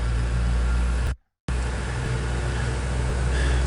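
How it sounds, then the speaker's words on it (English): Steady broadband road traffic rumble on a seafront in Howth, continuous and fairly loud, with a brief full dropout partway through before the traffic hum resumes unchanged. "Sorry about the noise of the traffic in the background there."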